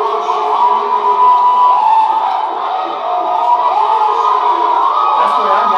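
A crowd of young people at a charismatic church fire tunnel shouts and cries out continuously, a loud, dense wall of massed voices sustained throughout without pause.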